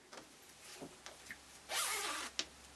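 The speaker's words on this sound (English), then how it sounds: "You can go ahead and close up that zipper for a second." A zipper is drawn closed on a sewn fabric change purse, a short rasping zip after a few faint handling taps, close and fairly quiet.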